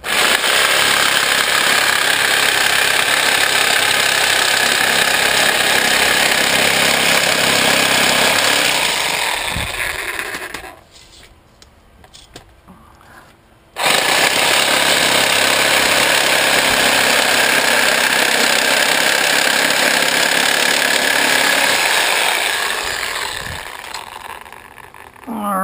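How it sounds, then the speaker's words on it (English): A Sawzall reciprocating saw cuts through scrap metal close to the edge, a loud, harsh, continuous buzzing grind that stops for about three seconds midway before resuming at full intensity. "set my Sawzall close to the edge of the metal as I can"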